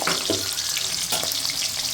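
Paneer pieces frying in hot oil, a steady bright sizzle with crackling spits and faint stirring, close and continuous without any talk.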